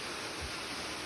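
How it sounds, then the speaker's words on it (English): A waterfall pours off a mountainside along a wilderness trail, heard as a steady, dense broadband rush with no pauses or talking. "you got this cool waterfall over here that is coming right off the mountain"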